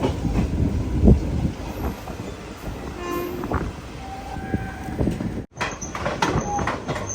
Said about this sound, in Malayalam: ട്രെയിൻ ഇപ്പോൾ ചേർത്തല റെയിൽവേ സ്റ്റേഷനിലേക്ക് എത്തിയിരിക്കുകയാണ്.